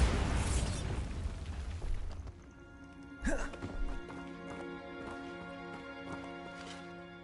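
A Bombarda spell detonates in Hogwarts Legacy with a sharp burst, followed by a ringing, sparkling magical tail over a dense game soundscape.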